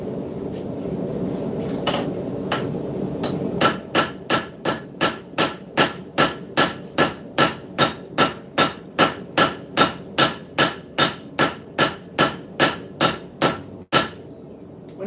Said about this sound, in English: What that'll do is keep your hammer blows consistent